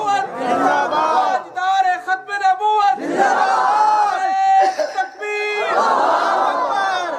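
At a religious gathering with a cleric's sermon, a large crowd shouts a chant in unison, in loud sustained bursts separated by short gaps and echoing in a big space.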